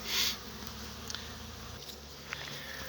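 Honey bees around the hives of a hundred-colony apiary in early September, a soft continuous buzz in open air with a louder bee passing close by at the start and occasional light taps.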